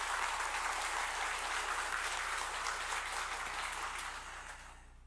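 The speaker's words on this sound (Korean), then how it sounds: "박수 한번 하십시다." A church congregation applauds the choir at a thanksgiving service, dense sustained clapping over a low hum that fades away toward the end.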